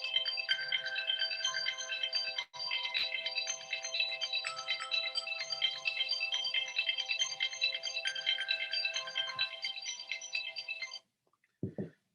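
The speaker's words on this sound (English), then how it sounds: "my phone alarm is going" A phone alarm rings steadily with a bright, repeating electronic melody for about eleven seconds, fairly loud and unbroken, then cuts off abruptly.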